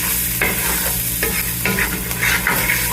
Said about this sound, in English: it allows you to kind of scrape up all these lovely little bits from the bottom of the skillet